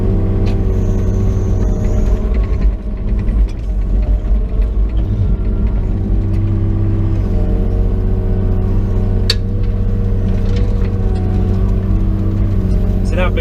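An excavator engine running steadily while the digger repositions on a dig site, a loud continuous low diesel rumble with slight surges and a few faint clanks.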